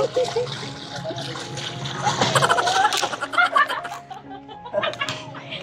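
Water sloshes and splashes as laundry is rinsed by hand, fabric swished around, mixed with someone speaking and laughing nearby.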